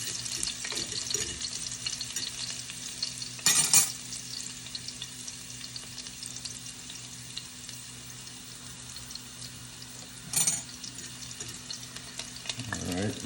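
Garlic and fresh thyme sizzle steadily in hot oil, a soft continuous crackle throughout, broken by a couple of louder stirring or clattering bursts.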